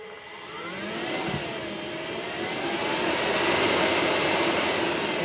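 An AC-50 motor runs continuously with a smooth, swelling drone and faint shifting tonal sweeps, moderately loud and steady, with no voices.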